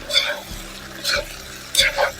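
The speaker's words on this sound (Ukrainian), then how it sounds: "Отак все перемішаємо." Ragout with pork fat being stirred in a hot pan, three scraping strokes over a steady sizzle, close by.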